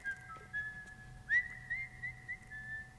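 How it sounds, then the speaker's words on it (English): A game character in The Last of Us: Left Behind whistles a steady, sustained tune with a few sliding pitch bends, moderately loud over a low background hum. "How do you do that? What, whistle?"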